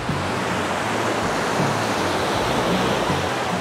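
Sea waves washing onto sandy Patara beach on Turkey's coast, a steady dense roar of surf heard close up with no voices.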